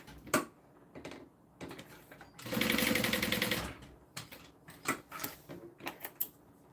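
Faux stitches are sewn on shoulder strap connectors with a sewing machine: a steady two-second burst of rapid mechanical stitching in the middle, framed by scattered clicks and taps of handling before and after.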